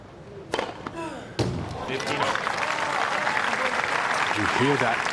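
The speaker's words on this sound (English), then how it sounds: "You hear that cannoning into the canvas at the back of the court." Tennis serve ace in a professional match, the ball thumping sharply into the back-court canvas, followed by a swelling wash of crowd applause that carries through to the end.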